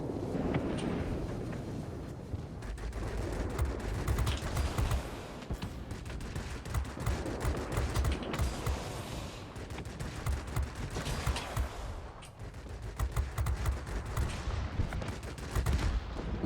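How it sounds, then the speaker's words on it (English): Hispano cannons on a plane in World of Warplanes fire in long, rapid bursts of dense, rattling gunfire, steady and fairly loud against a rushing wind-like engine roar, with brief pauses between volleys. "Lovely Hispano cannons."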